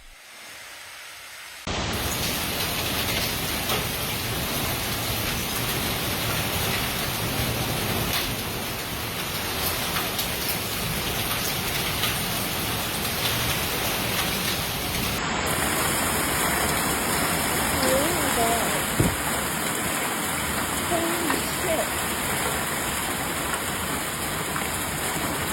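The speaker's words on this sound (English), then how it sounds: "the onset of the steady, heavy rain that began in the early morning hours" Heavy monsoon rain in Phoenix, Arizona pours down as a dense, steady hiss that starts abruptly and continues unbroken and loud, with no talking over it.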